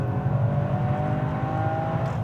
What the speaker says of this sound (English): it's got to be the best sounding 3-cylinder we've heard yet